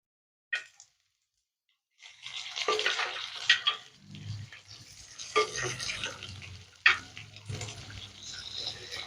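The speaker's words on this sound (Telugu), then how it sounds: "ఇప్పుడు మనం ఉడికించుకున్న మటన్ వేసుకుందాం" Cooked mutton tipped into a pan of ghee and ginger-garlic paste, frying with a close, steady sizzle and a few sharp clatters as it lands and is stirred.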